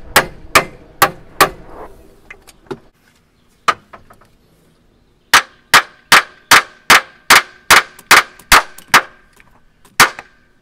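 Metal hammer blows strike the end of a bolt during transmission removal on a Silversides bus, ringing sharp clangs in irregular groups, several fast blows, a pause, then a long steady run of about a dozen evenly spaced hits.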